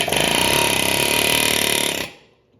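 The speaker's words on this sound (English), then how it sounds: "This is my choice for getting the yoke off the end of the pinion." A loud, steady pneumatic impact tool hammers rapidly for about two seconds while removing the pinion yoke from a GM 12-bolt differential, then stops abruptly and the sound dies away.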